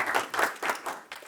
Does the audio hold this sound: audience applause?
yes